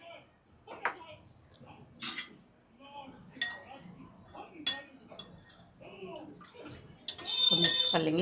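Lemon jaljeera with hing and lemon juice stirred in a bowl or glass, giving soft clinks of a spoon against the vessel and liquid swishing, close and fairly quiet, with some speech.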